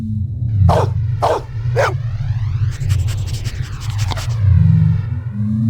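A dog in the Blade Runner video game barks several times in quick succession, then pants and yelps, loud and close over a low steady game background hum, with no talking.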